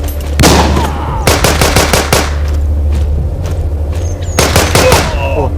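Gunfire in a zombie video game: a single shot, then a rapid automatic burst and a second burst later, loud and close over a steady game background hum.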